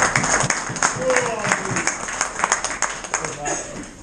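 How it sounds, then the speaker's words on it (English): Applause from a crowd at a match fishing competition at a fishery, a dense patter of clapping lasting several seconds, with some voices mixed in. "So big round of applause."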